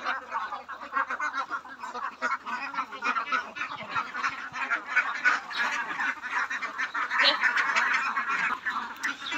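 Ducks on a small duck farm quack and honk together in a busy, overlapping chorus close by, continuous throughout.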